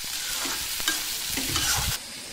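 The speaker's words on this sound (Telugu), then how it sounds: "పచ్చిమిర్చి వేసి కొద్దిగా ఫ్రై చేసుకోవాలి" Green chillies and curry leaves sizzle in hot oil while a spoon scrapes and stirs them around the pan, with several quick scraping strokes over a continuous frying hiss.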